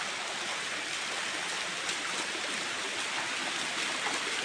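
A small stream rushes steadily near a hidden waterfall in Sri Lanka, a continuous close, full-bodied wash of flowing water with no other sounds.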